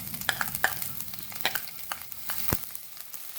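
Finely chopped garlic frying in hot oil in a pan, a steady hiss of sizzling broken by crackles, pops and the scrape of stirring, close and moderately quiet with no talking.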